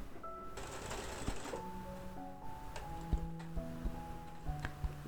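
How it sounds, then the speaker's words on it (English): A sewing machine stitches a facing into the bodice of a thrifted dress, with short bursts of needle ticking and small clicks at close range and no talking. "Just sewing it in."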